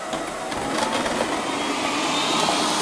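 Robot vacuum cleaner sucking up scattered crumbs on a lino floor, a steady whirring hum of suction with faint crackles, close by and constant throughout.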